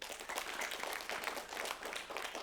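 Audience applause at an Indonesian inspirational talk session, steady dense clapping throughout at moderate level with faint voices underneath.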